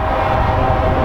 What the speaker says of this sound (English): So there's actually a train coming through,